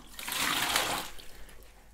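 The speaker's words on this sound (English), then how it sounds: "what you do is pour it into a bucket" Measured water for mixing plaster is poured into a bucket in one short, close gush that swells and then tapers off into a trickle.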